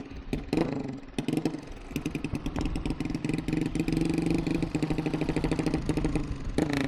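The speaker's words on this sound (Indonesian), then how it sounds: "Tuh, motornya berisik sekali guys, motornya berisik." A noisy motorcycle engine on a rough road during a touring ride near Merauke pops and clatters in a fast, uneven pulsing rhythm, loud and close throughout with no talk.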